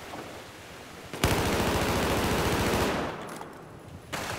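Rapid automatic gunfire in the video game Battlefield 4 bursts in as a loud, dense stream of shots for close to two seconds. A fainter shot follows near the end. No one speaks.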